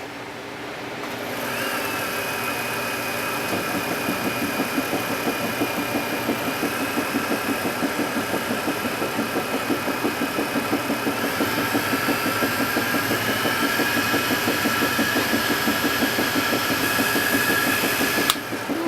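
A wood lathe spinning steadily during final buffing of a handmade pen, a continuous close motor whine with a high tonal streak, no talking.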